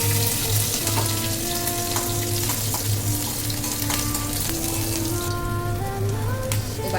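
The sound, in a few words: cumin seeds and green chillies sizzling in hot mustard oil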